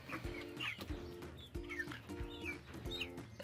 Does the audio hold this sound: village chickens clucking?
yes